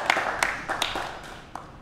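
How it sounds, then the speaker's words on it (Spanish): Light, scattered clapping from a small audience at a book presentation, a handful of sharp hand claps ringing out unevenly over a couple of seconds in a room. "Un aplauso para ellos y muchas gracias por estar acá."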